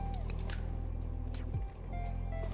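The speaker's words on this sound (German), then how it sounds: "Und meine Socken sind sehr nass. Ich kann es mal zeigen." Soaking wet hiking socks squelch after a long mountain hike, a soft, faint squish with a few damp drips set against a quiet outdoor background.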